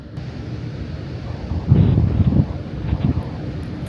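Wind rushes across the open deck of the cruise ship Asuka II on an evening at sea, a steady low rumble that swells into a stronger gust midway.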